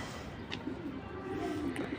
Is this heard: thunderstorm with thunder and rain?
no